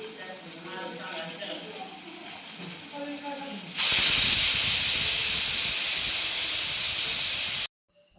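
A pressure cooker cooking seasoned rice lets out a loud, continuous burst of hissing steam for several seconds before cutting off abruptly, after quieter kitchen sounds and some voice at the start.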